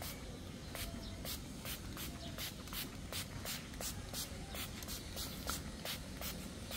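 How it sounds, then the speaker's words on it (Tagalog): Repeated short hissing sprays of water from a spray bottle onto a grass doll, about a dozen quick bursts in steady rhythm over a low background rumble, close by. "i-spray natin siya ng tubig."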